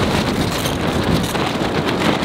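Strong wind roars and buffets a tent while camping to photograph bears, a continuous loud rushing that batters the microphone.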